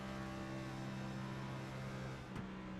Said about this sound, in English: Listen to the engine note of the 30 car.